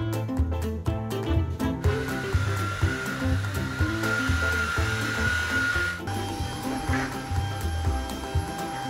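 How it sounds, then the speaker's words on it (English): A loud vacuum cleaner sucking rice from carpet runs steadily with a whining, rattling drone and gritty crackles, the pitch shifting partway through. "I'm gonna have 10 seconds to vacuum as much rice from each carpet"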